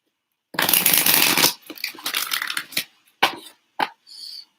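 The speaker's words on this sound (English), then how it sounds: "Let me just shuffle one more time" Tarot cards being shuffled close up: a long riffling burst, then several shorter bursts of flicking and sliding card noise separated by brief pauses.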